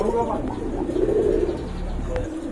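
Soft, low coos from local deshi pigeons murmur close by in a steady stream, with a faint chirp near the end.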